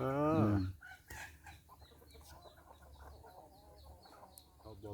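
Chickens cluck and call around a rural Thai home, with a loud rooster-like call up close at the start, then scattered softer clucks over a quiet farmyard background.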